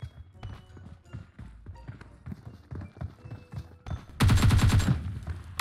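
Automatic gunfire in PUBG Mobile, fired by a teammate: a loud, close, rapid burst of shots near the end, following scattered footsteps and quieter game sounds.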